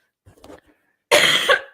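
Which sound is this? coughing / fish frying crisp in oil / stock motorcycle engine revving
coughing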